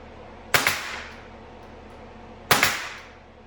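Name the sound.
nailing a board onto a workbench top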